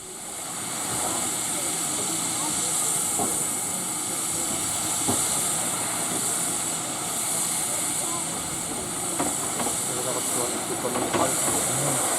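A Manor class steam locomotive on the Severn Valley heritage railway is loaded with coal by a JCB, under a loud, steady steam hiss broken by a few brief clunks.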